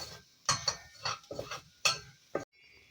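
A spoon scrapes and clinks around a pot of tomato paste for tarhana soup in several short strokes, close and fairly loud, with pauses between them.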